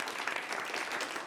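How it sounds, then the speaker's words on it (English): A late-night comedy show audience gives a brief, steady round of applause, dense and even throughout. "Everybody give him a nice round of applause."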